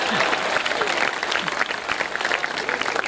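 Audience applause at a poetry gathering, a kavi sammelan in Khariar Road, Odisha, a dense sustained wash of clapping from a crowd, with some voices mixed in.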